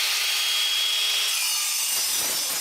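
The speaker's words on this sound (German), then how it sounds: "dann kann ich das Werkstück ganz einfach sägen" A handheld saw rasps steadily through a clamped steel workpiece, a bright, continuous scraping with no pauses, close by and loud.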